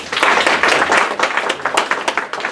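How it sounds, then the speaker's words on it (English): Audience clapping as a round of applause after a free-enterprise leadership talk, a dense, close patter of many hands that runs throughout and thins slightly toward the end. "Let's give them a round of applause."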